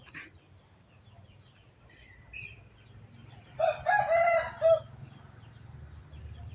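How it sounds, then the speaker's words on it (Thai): A rooster crows once at a distance, a brief rising call over steady low rural background rumble. "เสียงไก่"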